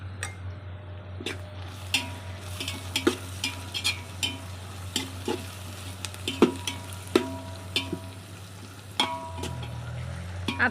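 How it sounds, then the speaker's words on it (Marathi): Chopped onion with a pinch of asafoetida frying in a large pot for bulk khichdi, under a steady low sizzle with repeated scraping clinks and taps of a spoon stirring throughout. "कांदा सारखा असा हलवून घ्यायचा आहे"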